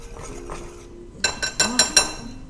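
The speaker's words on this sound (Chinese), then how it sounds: "然后将它搅拌均匀" Spoon stirs a purple sweet potato steamed-cake batter mixed with sugar and five-spice powder in a bowl: a few soft scrapes, then four sharp, ringing clinks of metal against the bowl in quick succession.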